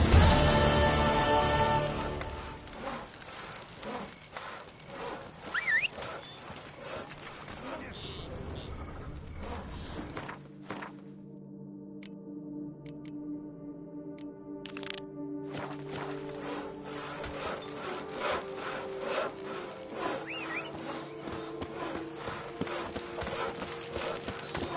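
Roach the horse trotting in The Witcher 3, steady clip-clopping hooves carrying on at an even rhythm for a long stretch, with a brief quieter gap partway and other ambient game sounds around it.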